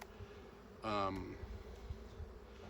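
Honeybees buzz around an open hive frame during an inspection, a low, faint, steady drone with a brief louder, voice-like burst near the middle.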